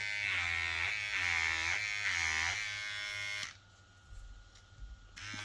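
A VGR V008 hair trimmer buzzes loudly and steadily up close, its motor pitch wavering slightly for about three seconds before it cuts off, leaving faint handling noise.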